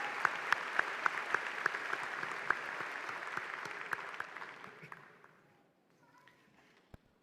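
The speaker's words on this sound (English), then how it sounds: "Let's give these folks a round of applause for their help and participation today" Crowd applause at a university commencement ceremony honoring student marshals, a steady broad clapping wash with a few sharp individual claps, fading out near the end.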